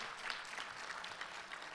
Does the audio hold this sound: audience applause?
yes